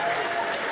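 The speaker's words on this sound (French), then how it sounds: "Est-ce qu'on peut applaudir pour notre papa Samuel Eto'o, s'il vous plaît?" Brief burst of audience applause at a live event honoring footballer Samuel Eto'o, dense steady clapping filling the short moment with a faint crowd murmur beneath.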